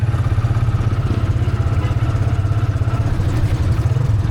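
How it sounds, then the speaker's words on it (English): A tuk-tuk's small engine chugging in a steady, throbbing low rhythm during a night ride through El Nido, close and fairly loud, with faint street clatter and occasional distant voices beneath it. "Catching a tuk-tuk to our resort."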